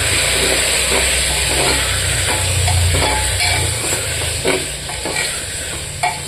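Spice paste of cumin, dry red chilli and turmeric frying loudly in hot oil, a dense close hiss and sizzle with occasional stirring knocks, no talking.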